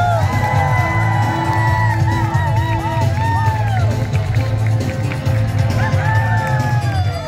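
An audience at a dog agility show cheers continuously, with loud whoops and shouts rising over a steady crowd roar and sustained tonal sounds running underneath.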